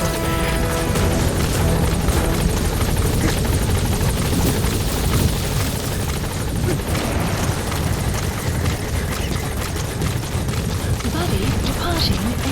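A support helicopter arrives in Metal Gear Solid V: The Phantom Pain, its loud, constant rotor roar filling the scene while a voice speaks over it.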